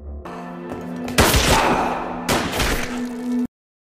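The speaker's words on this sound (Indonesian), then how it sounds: "Hal yang bisa Tammy lakukan adalah menghabisi zombie Don dengan beberapa tembakan" Loud gunfire in a zombie film: a couple of close, sharp bursts of shots rip out over a tense background tone, then cut abruptly to silence.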